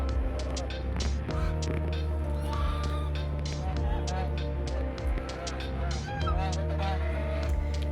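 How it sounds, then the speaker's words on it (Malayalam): Duck-shaped birds at a resort garden honk and cackle repeatedly in an irregular rhythm, fairly near, mixed under steady background music. "താറാവിൻ്റെ ഷേപ്പുള്ള ഈ പക്ഷികൾ ശരിക്കും എന്താണെന്ന് എനിക്കങ്ങ് മനസ്സിലായില്ല"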